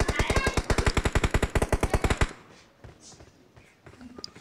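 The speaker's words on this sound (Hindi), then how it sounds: "हमारे को फुट के स्टेप आ रहे फायरिंग आ रही होती है" Rapid automatic gunfire in PUBG Mobile, a loud, evenly spaced burst of about twenty shots lasting two seconds, then quieter scattered game sounds.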